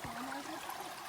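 Creek water flows steadily right in front of an Appalachian Trail shelter, a soft continuous rushing and trickling with no talk.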